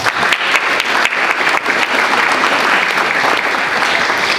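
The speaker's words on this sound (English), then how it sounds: "Give yourselves a round of applause." Audience applause fills a memorial reception hall, a dense, steady wash of many hands clapping close by, sustained evenly without a break and with no voices rising above it.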